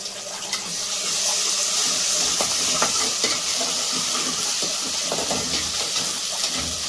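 Fresh curry leaves and ginger-garlic paste fry in hot oil with a loud, steady hiss and splutter, close up, with occasional sharper crackles over the continuous sizzle.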